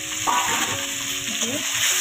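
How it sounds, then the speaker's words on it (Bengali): Tomato pieces and slit green chillies hit hot oil in a kadai for a tilapia fish curry, sizzling and frying steadily with stirring scrapes, close and moderately loud. "আগে থেকে কেটে রাখা টমেটোর টুকরো আর লঙ্কা চেরা কড়াই এখন দিয়ে দেবো।"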